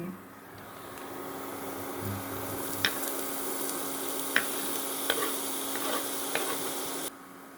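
Diced zucchini frying in a pan, a steady hissing sizzle throughout with a few faint clicks of a utensil, and a brief voice near the start.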